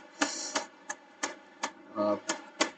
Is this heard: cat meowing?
no